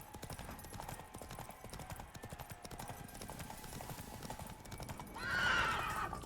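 Hooves beat in a rapid, continuous clip-clop as a horse gallops in The Witcher 3, and a loud, shrill neigh breaks out near the end. No one speaks.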